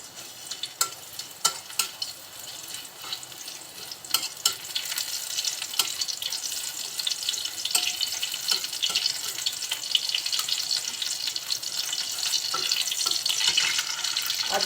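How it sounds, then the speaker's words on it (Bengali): Two cloves of crushed garlic fry in hot oil with a steady, bright sizzle that builds slightly over time, close and continuous with occasional crackles. "তেলের ভিতরে দিয়ে দিচ্ছি আমি 2 কোয়া রসুন থেতো করেছি,"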